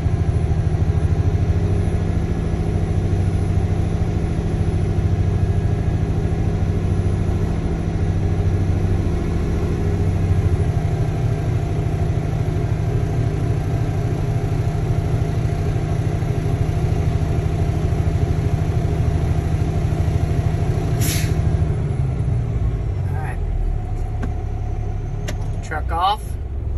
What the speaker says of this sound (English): Listen for the governor to spit, purge valve.